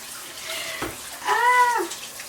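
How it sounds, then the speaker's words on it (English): Hands washed under a running kitchen tap while cooking, a steady rush of water throughout with a cat's drawn-out meow rising and falling over it near the end. "let me wash my hands"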